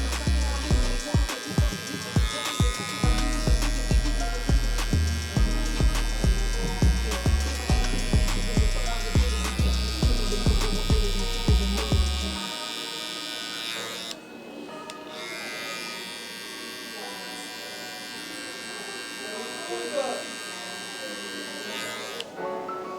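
Electric hair clippers buzz in repeated short bursts while cutting a burst fade mullet, then run in a steadier, quieter hum; close and continuous with no speech.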